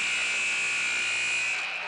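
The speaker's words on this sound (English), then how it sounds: "Just before that end of the quarter buzzer." Basketball end-of-quarter buzzer in a high school gym, a loud sustained electronic tone holding steady for nearly two seconds before cutting off.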